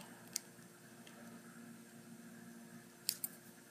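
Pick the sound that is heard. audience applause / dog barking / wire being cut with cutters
wire being cut with cutters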